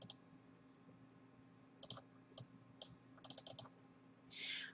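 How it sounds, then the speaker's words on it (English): Fingers type a message on a computer keyboard, quiet close clicks in uneven clusters of keystrokes over a faint steady background hum. "All right, so you just type away"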